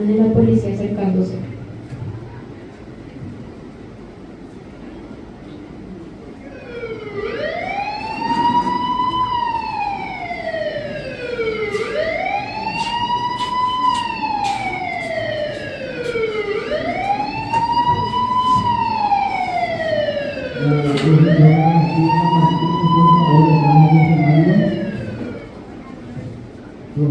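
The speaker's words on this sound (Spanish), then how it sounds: "se escucha el sonido de la sirena de la policía acercándose" A wailing police siren sweeps up and down in long, regular cycles, rising in level as it draws nearer during a school stage performance. A voice talks beneath it near the start and again toward the end.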